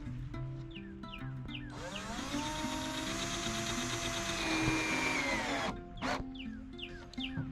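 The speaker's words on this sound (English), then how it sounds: "So right now I'm finishing up putting screws in these support beams underneath where we'll be laying." A power drill drives screws into support beams under a deck, one sustained whirring run lasting about four seconds, close and loud, followed by a brief second burst amid background bleating-like tones.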